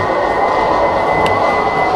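A GTA 5 train roars steadily and loudly nearby with a faint high whine, no voices over it.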